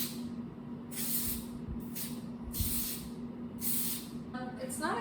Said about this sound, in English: I actually got this really cool black spray